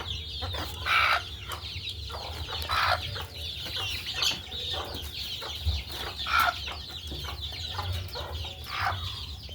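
Hens with young chicks cluck repeatedly inside a cage, a series of close, bursty clucks and calls recurring every second or two over a low background hum.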